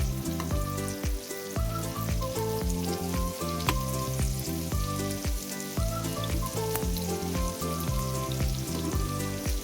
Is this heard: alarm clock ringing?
no